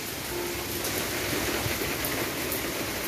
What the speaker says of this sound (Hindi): जोरों की बारिश।